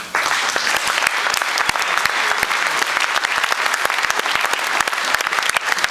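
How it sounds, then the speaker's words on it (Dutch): A large audience at an evening celebration of the Charlois district's 550th anniversary bursts into loud, dense applause, a continuous crackle of many hands with crisp individual claps throughout. "Graag een groot applaus voor deze inzet."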